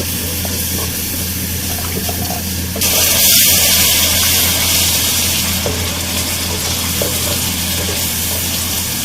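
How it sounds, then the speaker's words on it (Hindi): Spices sizzle loudly as they are sautéed in a pan for a dhaba-style mixed vegetable dish, with a steady hiss that jumps louder partway through, then continues with stirring noise. "इन सब मसालों को हम साथ में इसके भून लेंगे बहुत अच्छी तरह से"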